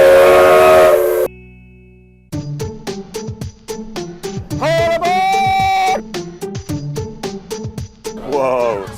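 Whistle of a 100-year-old steam engine train sounding in short repeated toots and a longer sustained blast, close and loud, with hissing steam and clattering around it.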